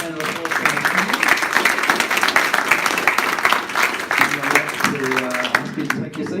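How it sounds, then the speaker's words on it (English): An audience claps for a panel at a freight innovation forum, steady applause from a crowd with voices talking over it and some faint music-like tones underneath. "we're going to put a round of applause for our panel"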